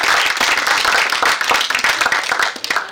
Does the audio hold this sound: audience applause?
yes